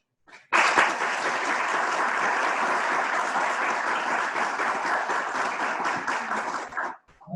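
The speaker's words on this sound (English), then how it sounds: "I want to give a round of applause to our decision makers." An audience at a state of the union event breaks into steady, close applause for its decision makers, a dense wash of clapping that starts abruptly, holds evenly for several seconds, then stops suddenly.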